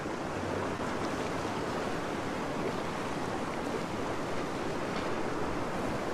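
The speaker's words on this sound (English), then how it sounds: "There's some nice waves." Ocean waves break and wash up the beach at Currumbin, Queensland, a steady continuous roar of surf heard alone without a pause.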